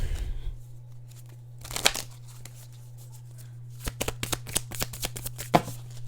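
Tarot cards being shuffled by hand in two separate bursts of quick riffling and slapping, close up and fairly crisp over a steady low electrical hum, with no one speaking.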